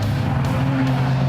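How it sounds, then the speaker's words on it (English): A historic racing car oversteers and spins off the track, its engine holding a loud, steady drone with tyre scrubbing and skid noise, close and continuous with no talk. "he oversteers and spins off the track"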